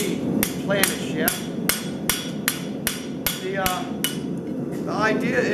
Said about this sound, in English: That's what you call planishing. Hammer polishing, really.